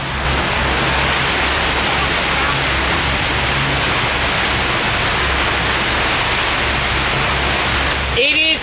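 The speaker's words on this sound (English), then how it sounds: "It is pouring rain." Heavy rain pours steadily onto a sailboat at sea in roughly 20-knot headwinds, a loud, dense, unbroken hiss lasting throughout, with a brief voice breaking in near the end.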